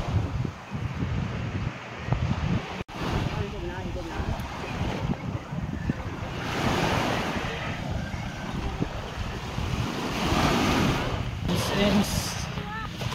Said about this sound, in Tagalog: kaya dito sa baybay kay hangin ba